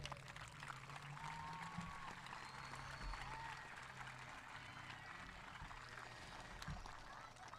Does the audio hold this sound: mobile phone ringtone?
no